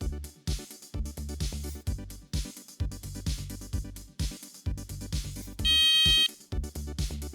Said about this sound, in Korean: 측정한 온도에 따라 경보음의 높낮이가 잘 표현되는지 살펴봅시다